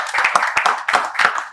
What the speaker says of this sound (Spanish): Y quiero un aplauso para él